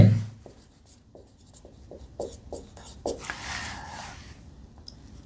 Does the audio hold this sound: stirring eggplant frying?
no